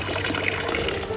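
A free drinking-water fountain in the lakeside village of Coppet, Switzerland, runs in a continuous splashing stream, close and fairly loud, with no voices.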